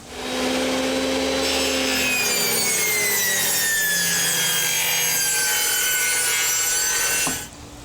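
A power saw blade rips a 30-degree bevel along a wooden board guided by a fence. The cut is a loud, close, continuous whine lasting about seven seconds and then stops abruptly. No voices are heard.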